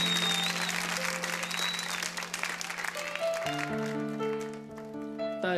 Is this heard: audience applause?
yes